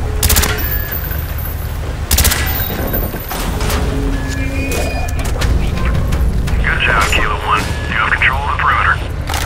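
Heavy gunfire rattles in a Call of Duty: Black Ops campaign mission as shots blast door hinges, dense bursts and loud booms layered over radio-style voices, aircraft drone and battle noise throughout.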